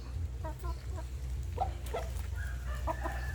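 Burmese chickens in a pen with five roosters cluck in short bursts over a steady low hum, the calls close and moderately loud.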